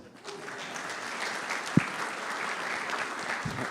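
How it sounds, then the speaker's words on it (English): An audience at a live meetup event applauds steadily for several seconds, a moderate crowd of clapping hands with one sharp louder clap standing out midway. "One more round of applause."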